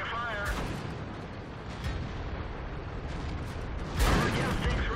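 A T110E5 tank cannon fires in World of Tanks on the Sand River map, two heavy booming shots with rumbling tails amid ongoing battle noise, while a voice speaks briefly near the start.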